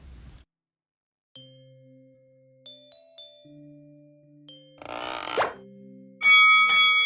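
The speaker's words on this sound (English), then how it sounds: "there's the bell, so that means that class is dismissed." A school-style bell chime signalling dismissal at the end of a class, heard as a sequence of clean electronic tones rising in pitch, followed by a bright ringing burst at the end, with no talk.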